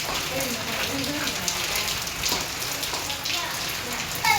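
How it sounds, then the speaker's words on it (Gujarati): Heavy rain during a village windstorm in Gujarat pours steadily in a dense, continuous hiss, loud and unbroken throughout. "હવે વરસાદે વધતો જાય છે. વરસાદ ધીમો તો પડતો નથી પણ વધતો જાય છે"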